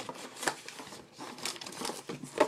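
2012 Topps Allen & Ginter's trading cards pulled from a box pack make repeated close crinkling and rustling of foil and paper, in short uneven bursts with no talk.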